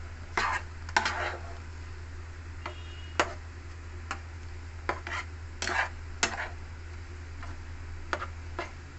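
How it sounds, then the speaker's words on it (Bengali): Ground coconut paste with cardamom is stirred continuously in a pan for Bengali narkel barfi, giving irregular scraping and clinking strokes of a utensil against the pan over a low steady hum, with no talk. "এবার একে অনবরত নাড়তে থাকবো।"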